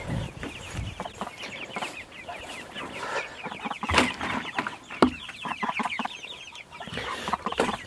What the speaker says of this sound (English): once we got these chicks in here,